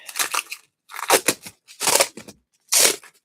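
Loud crinkling and crackling of sticky plastic wrap in four separate bursts, each about half a second long, with short silent gaps between them and no voices.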